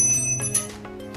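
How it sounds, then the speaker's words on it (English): A bicycle bell rings a few times in quick succession, light metallic dings with lingering tones, close by in a quiet room. "Bell"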